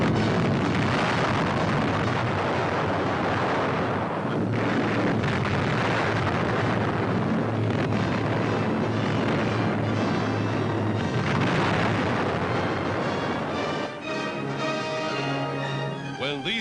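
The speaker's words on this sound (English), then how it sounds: "bombs away" Bombs dropped from an aircraft on a suspected enemy raider in the Atlantic during wartime action, heard as a loud, continuous roaring rumble with heavy booming bursts throughout, thinning toward the end.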